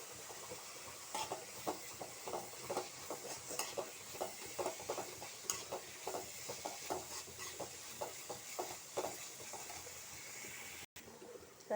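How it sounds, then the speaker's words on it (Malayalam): Onion and garlic for egg curry are stirred in a pan, with a quiet, steady rhythm of spoon scrapes and soft sizzling repeating throughout. "ഇനി നന্നായിട്ട് ഇളക്കി കൊടുക്കാം"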